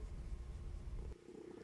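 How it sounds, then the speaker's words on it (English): A house cat purrs while being petted, a close, low, rumbling purr running continuously, then dropping slightly quieter near the end. "I'm bugging the cat a little bit."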